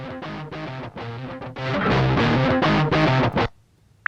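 A distorted rock guitar and drum loop, a GarageBand for iOS preset, plays loud and steady for about three and a half seconds, then cuts off sharply, leaving near silence and a small click.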